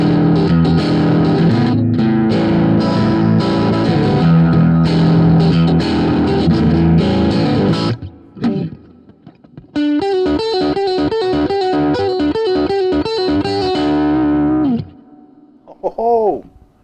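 Electric guitar played through the Positive Grid Spark amp's Two Stone model, loud distorted chords and riffs for about eight seconds, then a pause and a run of bright, rhythmically picked notes, ending on a few ringing strums.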